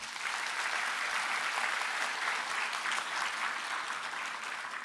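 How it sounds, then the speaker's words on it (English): Sustained, dense applause from a large crowd at a graduation ceremony, many hands clapping steadily and fairly loud for several seconds. "Let's give them our biggest applause."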